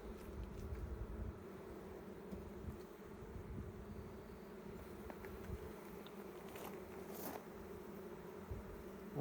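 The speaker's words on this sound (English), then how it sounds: "Oh, god dang bees." A constant low buzzing of many bees swarming close by at an open hive, a steady droning hum with occasional faint clicks.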